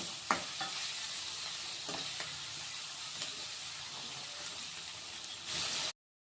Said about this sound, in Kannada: ಇದು ಸಹ ಎರಡರಿಂದ ಮೂರು ನಿಮಿಷ ಚೆನ್ನಾಗಿ ಫ್ರೈ ಆಗಬೇಕು ಮೆಂತ್ಯ ಸೊಪ್ಪು ಹಸಿ ವಾಸನೆ ಹೋಗಬೇಕು ಅಲ್ಲಿವರೆಗೂ ಫ್ರೈ ಮಾಡ್ಕೊಳ್ಳಿ